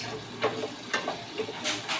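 Spice powders, chili and pepper, sauté in a pan for butter chicken, giving a soft continuous sizzle with a few gentle stirring scrapes.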